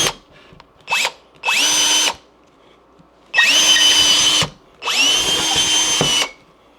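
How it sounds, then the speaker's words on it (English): A power drill whirs in four separate bursts of rising whine, the last two longer, with quiet pauses in between, drilling at a downward angle through a wall. "I drill at a downward angle."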